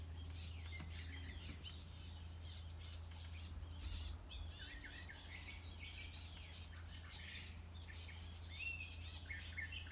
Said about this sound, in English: A house finch just showed up too.